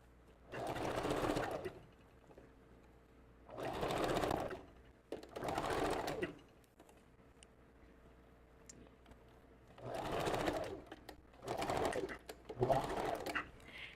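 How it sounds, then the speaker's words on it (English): Short back-and-forth bursts from a sewing machine stitching wig tracks, six separate runs of about a second each with quiet gaps between, fairly soft and close. "that was just kind of doing a little back stitching in there"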